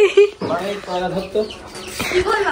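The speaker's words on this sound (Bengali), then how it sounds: "মুরগি রে, মুরগি।" A chicken clucking nearby in a series of short, throaty calls, mixed with a person's voice.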